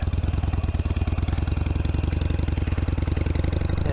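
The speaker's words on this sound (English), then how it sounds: "Yeah, I'm not gonna put my motorcycle through that." A motorcycle engine idles steadily and close by beside a flooded street after Hurricane Milton in Cocoa, Florida, its low, even pulsing continuing unbroken with no talk over it.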